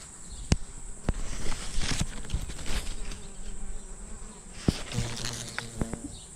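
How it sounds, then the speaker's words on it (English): Bees and June bugs feeding on figs buzz continuously up close, with a few sharp ticks and taps scattered through the droning. "The June bugs and the bees are having a feast."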